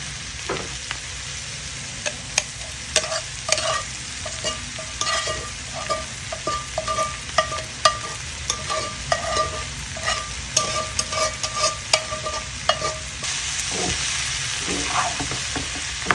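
Bitter gourd fried with onion and potato gets stirred in a pan, a spatula scraping and clacking in an irregular rhythm of close, sharp knocks over a steady low sizzle, with no talking.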